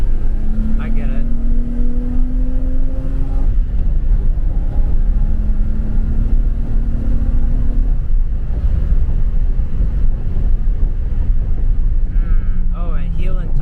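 Engine drone of a BMW E34 M5 cruising in a long gear, a steady low rumble with road and wind noise throughout, and someone talking over it at times.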